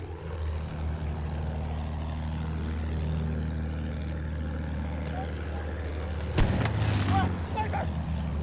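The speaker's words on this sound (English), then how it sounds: "Enemy plane in sight!" An enemy propeller plane in Battlefield 1 drones steadily at low pitch, rising briefly to a louder burst near the end, under light background game noise.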